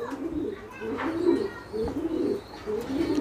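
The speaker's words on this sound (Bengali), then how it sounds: "এখানে কবুতরগুলো গোসল নিয়ে ব্যস্ত আছে।" Pigeons in a flying loft coo repeatedly while bathing in a water tray, producing soft, low, throaty calls in a rolling rhythm, close by and moderately loud.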